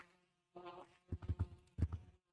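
Swarm of bees buzzing in the VR game Gorilla Tag, heard as a soft drone followed by a few louder pulsing bursts close by, with no talking.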